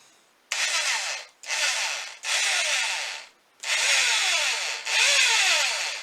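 A drill bores into a horn being hollowed out for a Viking blowing horn, five sustained bursts of grinding, whining drilling separated by short pauses, close and loud with no talk.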